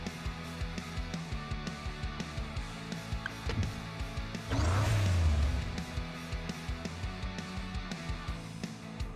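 A toy car drives in the mobile racing game Hot Wheels Unlimited, its synthetic engine humming steadily and swelling into a brief louder rev partway through before settling back down.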